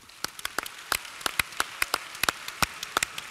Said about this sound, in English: So now I want a round of applause for you.